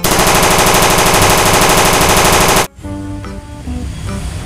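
A toy AK-47 plays its electronic firing effect, a loud, rapid, unbroken rattle that lasts nearly three seconds and then cuts off abruptly, leaving faint handling noise.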